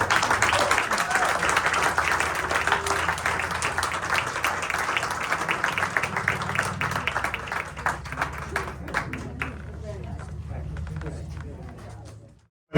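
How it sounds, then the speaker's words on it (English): An audience at an Appalachian Trail arts and culture festival panel applauds the authors, with busy clapping that thins out and dies away near the end amid some talking. "let's give them one more round of applause."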